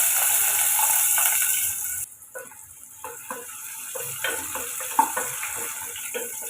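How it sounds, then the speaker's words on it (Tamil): Sliced onions dropped into hot oil already holding star anise, cinnamon and stone flower, for a vegetable kurma; a steady sizzle breaks off, then crackling pops and spits resume close by without talk. "இது கூட கட் பண்ண வெங்காயத்தையும் சேர்த்துக்கோங்க"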